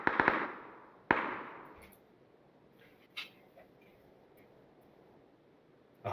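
Sharp gunshots from the PUBG battle royale game during an esports finals broadcast: two quick cracks, then another about a second later and a fainter one after a pause, each with a short decaying tail and no talk.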